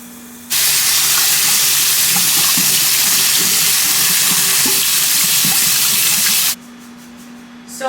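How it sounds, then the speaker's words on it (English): Rice is rinsed in a strainer under running tap water, a loud, steady rushing and spattering that lasts about six seconds before stopping abruptly, with no voices. "I put it in a strainer and I wash it."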